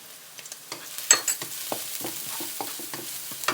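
Minced garlic stir-fried in a hot pan while cooking a canned-fish chili paste: a steady close sizzle broken by a string of irregular spatula scrapes and taps, with no voices.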